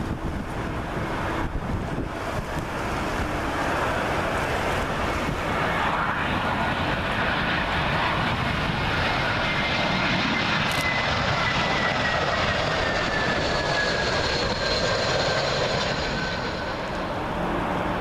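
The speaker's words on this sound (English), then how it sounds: "Next arrival in, British Airways A319. In from Aberdeen." A British Airways Airbus A319 airliner on arrival into Heathrow from Aberdeen roars steadily overhead for the whole stretch, a loud broadband jet rumble with a descending whine, mixed with wind buffeting on the microphone and no voices.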